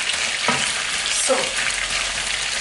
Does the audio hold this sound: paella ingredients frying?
yes